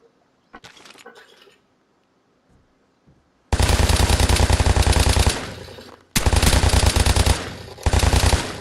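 Bursts of rapid automatic gunfire from a video game, two long loud volleys separated by a short pause, with a few faint clicks and taps beforehand.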